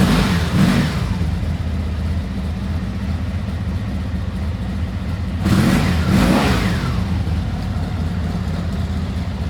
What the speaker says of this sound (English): then we'll go ahead and start the bike